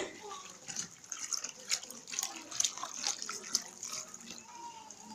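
Water being poured from a container into a vessel, about four liters at a rural skills training session, a steady splashing stream throughout with faint voices in the background.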